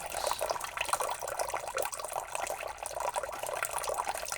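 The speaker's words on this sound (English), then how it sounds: "Ooh, that water works." Running water in the PC game BugOut plays on a farm: a steady, fairly faint stream of splashing and trickling, like a tap pouring, continuous throughout without voices.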